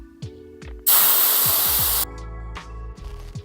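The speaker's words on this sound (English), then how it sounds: "you can go ahead and deflate our tire all the way" Air hisses out of an Apollo Pro (2024) electric scooter tire as it is deflated, a loud steady rush lasting about a second, framed by soft clicks and handling noises before and after.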